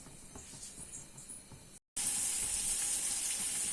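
A steady hiss of bubbling stingray fish curry in a covered pot, briefly cut off, then returning louder and brighter with a continuous simmering sizzle.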